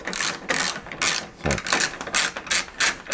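A ratchet wrench backs out a 10mm bolt from the hood release latch bracket of a 2000 Chevrolet Silverado 1500, giving rapid bursts of close, loud clicking in short repeated strokes with brief pauses.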